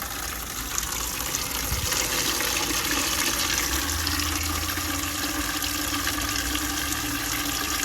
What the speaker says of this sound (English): I'm going to fill that from our rain barrel here